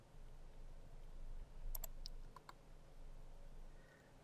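A few light computer mouse clicks against a quiet room hum, small sharp ticks clustered close together near the middle, soft and near.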